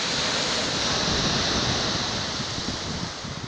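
Sea waves at the Yalta seaside, a steady broadband rush of surf between the piers mixed with wind noise on the microphone, continuous and fairly loud with no talking.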